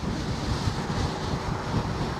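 Strong, steady wind roars across the microphone while riding a KingSong 18XL electric unicycle outdoors, a constant broadband rush with no talk over it.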